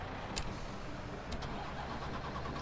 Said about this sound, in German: Der Motor war schon an.